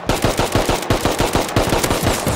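Rapid automatic gunfire from a gun in the survival video game Rust, a loud, steady burst of closely spaced shots running the whole stretch with no voices.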